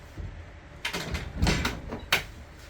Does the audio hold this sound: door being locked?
yes